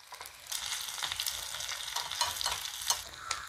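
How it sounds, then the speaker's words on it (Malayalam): Small shallots dropped into hot oil for a Kerala roasted-coconut curry, giving a bright, continuous crackling sizzle with some stirring, heard close and alone. "എണ്ണയിലേക്ക് കുറച്ച് ചെറിയുള്ളി ഇട്ട് കൊടുക്കാവേ"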